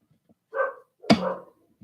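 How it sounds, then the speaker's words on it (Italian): A dog barks twice in quick succession, fairly close and clear, with a short yip between the barks and quiet around them. "chiedo scusa se sentite i cani abbaiare"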